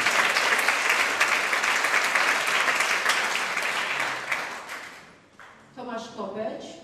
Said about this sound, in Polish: Duże brawa dla wszystkich moich ludzi z Europy.